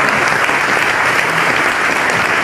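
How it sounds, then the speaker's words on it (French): An audience at the presentation of the 2027 UCI Cycling World Championships in Haute-Savoie Mont-Blanc gives steady, loud applause throughout, dense clapping with no pauses. "Applaudissements pour Valentin qui nous rejoint."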